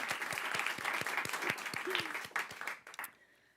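An audience claps for an organizer at a poetry reading, a brisk burst of applause with some distinct individual claps that tapers off and dies away after about three seconds, with a brief voice sound partway through.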